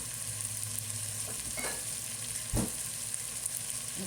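Chicken adobo frying in a pan, a steady close sizzle with a couple of brief stirring scrapes, no one talking.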